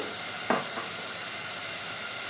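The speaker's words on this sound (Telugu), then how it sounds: "ఇలా ఉల్లిపాయ ఎగేటప్పుడు సాల్ట్ వేసుకోవడం వల్ల ఉల్లిపాయ అనేది బాగా ఫ్రై అవుతుంది" Sliced onions fry in a pan with salt added, giving a soft, continuous sizzle with one brief louder scrape or stir near the start, and no voices.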